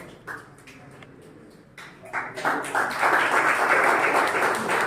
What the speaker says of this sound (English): So big round of applause for our Santosh.